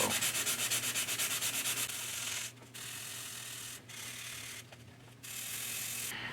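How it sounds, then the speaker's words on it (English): Steady abrasive sanding of a plastic scale-model submarine part, rubbing back and forth in a fast rhythm with a few brief pauses, close up and fairly loud. "I'm making sure that when I'm sanding these, I'm not sanding it square on like this"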